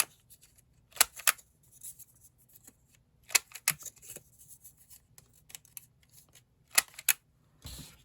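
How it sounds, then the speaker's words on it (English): The paper edge of a handmade flat pen is trimmed close up, with crisp snips and clicks coming in small clusters between quiet pauses and faint rustling of paper. "I am going to just trim down the edge here because I did not fold well"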